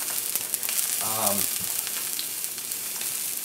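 Tuna sears in a hot pan, held on its sides to brown, giving a continuous close sizzle and crackle, with a short voice passing over it briefly.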